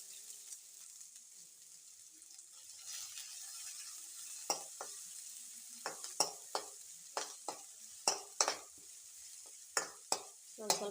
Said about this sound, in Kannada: ಈರುಳ್ಳಿ ಬೇಯ ಮಟ ಈ ಥರ ಕೈ ಆಡ್ಬೇಕು ನೋಡಿರಿ.